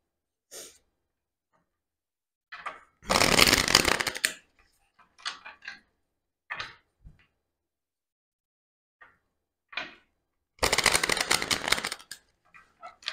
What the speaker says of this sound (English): Two more shuffles, please, for Libra.